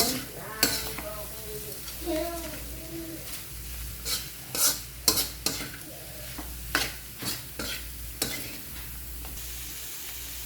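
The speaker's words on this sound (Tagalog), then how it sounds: "Haluin natin." Dinuguan, a Filipino pork blood stew, is stirred in a pan with repeated scraping strokes and soft clinks, over a quiet, steady sizzle.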